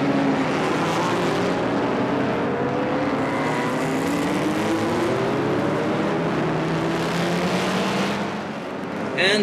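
Race car engine roaring at the Palanga 1000 km endurance race in 2014, a loud continuous drone with rising and falling pitch as cars rev and sweep past, with faint commentary mixed in.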